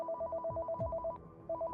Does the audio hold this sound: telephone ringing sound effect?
yes